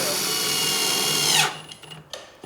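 A power drill drives line screws into a kitchen base unit during installation, a loud steady whine holding for about a second and a half before cutting off, followed by quieter handling knocks.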